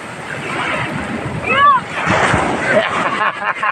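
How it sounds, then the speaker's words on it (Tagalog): Big ocean waves crash and wash onto a beach as a storm approaches, a loud, continuous roar with wind buffeting the microphone and a voice calling out briefly. "Laki ng alon niya!"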